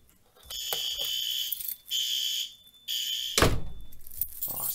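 A Simplex 4010 fire alarm system sounds during a key test, giving three bursts of harsh, high electronic tone close by, separated by short gaps and ending in a loud clunk and rattle.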